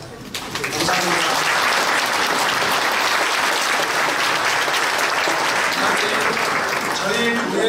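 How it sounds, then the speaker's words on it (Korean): A church congregation at a 70th anniversary thanksgiving service claps for the pastors, sustained loud applause filling the hall after a quieter opening moment. "우리 목사님들 잠깐 일어나시면 박수하도록 하겠습니다."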